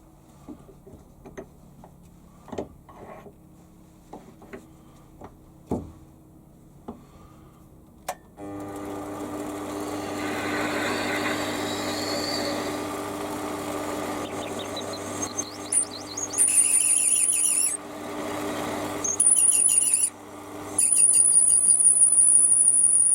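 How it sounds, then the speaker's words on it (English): A reamer is turned by hand through a tailstock die holder on a WARCO WM180 lathe: faint, sparse ticks and clicks at first, then a steady machine hum with a high whine cutting in and out. "is just run the reamer through by hand"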